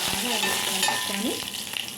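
Mustard seeds and asafoetida sizzle in hot oil in a steel pot, tempering for Andhra-style tomato dal, with close spoon-scraping stirs over a steady crackling fry.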